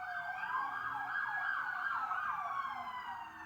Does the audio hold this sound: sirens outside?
yes